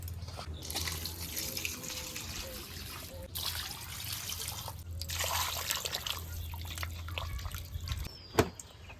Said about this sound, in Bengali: এবার এই বাম্বু চিকেনটা আমি ধুয়ে সুন্দর করে জলটা নিগড়ে নেব।